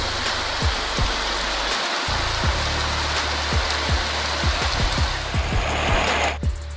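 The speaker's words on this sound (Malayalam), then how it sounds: "വീണ്ടും തോരാതെ മഴ പെയ്തുകൊണ്ടിരിക്കുകയാണ്" Heavy, unbroken rain pours down outdoors, a loud steady hiss of drops on surfaces that carries on without a break throughout.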